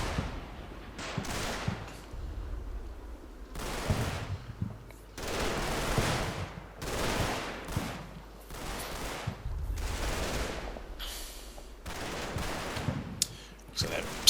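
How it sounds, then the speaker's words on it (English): PIAT anti-tank launcher shots in a Combat Mission World War II Normandy battle, with repeated loud bursts and blasts of gunfire arriving in irregular clusters across a noisy battlefield soundscape. "So that second Piat launcher is still not convinced the vehicle's not a threat, so still taking shots."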